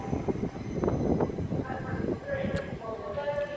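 A Class 66 locomotive hauling a train rushes past fast at a station near Oxford and Didcot Parkway, with a rumbling rolling roar that swells and then fades, and a voice talking over it.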